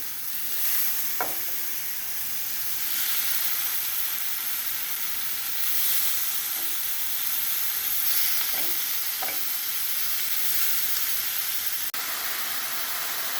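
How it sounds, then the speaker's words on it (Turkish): Köfte meatballs fry in a hot oiled pan with a constant, loud, close sizzling hiss, punctuated by a few faint taps and clicks. "Hazırlamış olduğum köftelerimi bakınız kızgın tavama artık bırakıyorum."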